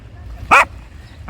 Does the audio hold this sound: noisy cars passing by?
no